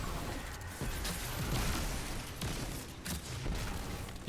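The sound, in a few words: skip grenades exploding in Destiny 2 video game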